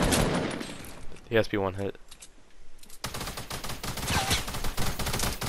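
Gunfire in a shooter video game, a burst of rapid shots followed by a dense spell of crackling fire, with players talking over it.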